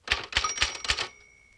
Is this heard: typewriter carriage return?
yes